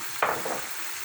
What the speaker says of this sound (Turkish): Şöyle hafif hafif karıştırıyoruz. Sarısını iyi pişirmek için.